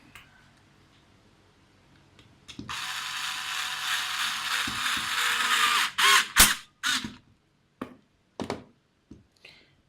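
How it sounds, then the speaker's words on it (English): A ratchet tightens the blade bolt on a Ryobi RHT 650 hedge trimmer, giving a loud steady run of rapid clicking for several seconds, then a few separate sharp clicks and knocks close by with no talking. "And then we tighten it."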